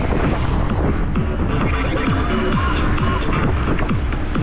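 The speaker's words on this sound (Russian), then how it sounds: "Еще ветер." Strong March wind buffets the microphone on a route out of Feodosia in Crimea, making a loud, constant low rumble and rushing noise throughout.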